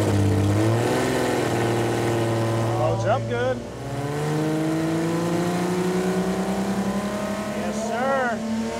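A rebuilt 4.0-litre Jeep straight-six roars as it revs hard, dips sharply around the midpoint, then climbs again in rising pitch. Excited voices call out over the loud engine.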